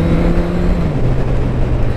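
A Honda CB1100 Cafe Racer, an inline-four motorcycle, accelerating on the road. Its engine sends out a close, loud, steady drone with a slight dip in pitch partway through.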